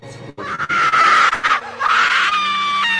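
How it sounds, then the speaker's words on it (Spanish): A horror film scream sound effect: a loud, sustained high-pitched shriek that wavers and breaks over about three seconds, with a few shorter cries near the end and no talk. "sonidos tales como el grito"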